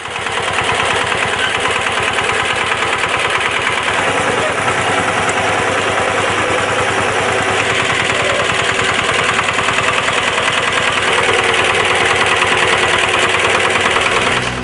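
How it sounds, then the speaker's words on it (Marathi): A farmer-built power trailer engine fitted with a toothed wheel for fertilizing ratoon sugarcane runs steadily and loud throughout, a dense continuous mechanical drone with a fast chugging pulse and no pauses. "दातेरी चाक असणारं हे नवं यंत्र नाही तर पॉवर ट्रेलरच आहे।"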